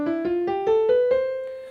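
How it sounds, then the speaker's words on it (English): A major scale played on an instrument, about eight evenly spaced ascending notes with sharp attacks, close and clear with no speech. "a major scale will always sound like this"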